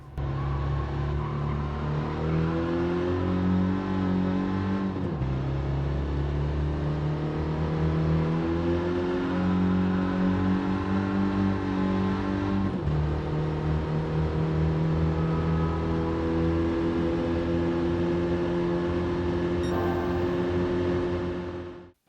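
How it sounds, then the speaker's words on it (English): In Gran Turismo 7, an unmodified car carrying essentially the Peugeot 205 GTI engine drives steadily, its smooth engine drone rising in pitch through the gears, with two clear shift drops and no talking. "This is mostly the same engine as you will find in the Peugeot 205 GTI."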